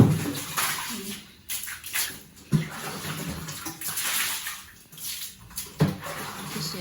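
Water poured and splashed in a room, in repeated sloshing bursts and sharp splashes at close range, with a few brief voices in the background.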